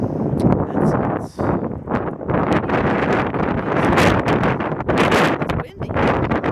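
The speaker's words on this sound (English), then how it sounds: "It's windy." Strong outdoor wind buffets the microphone on a cold day, a dense continuous rumble and roar with gusting dips, loud and close throughout.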